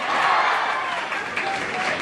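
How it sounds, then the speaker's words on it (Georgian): Audience applause fills a hall at a Mother's Day festival held in a trade-union culture house, a steady, dense clapping that runs throughout at close, even loudness. "აპლოდისმენტები კიდევ ერთხელ"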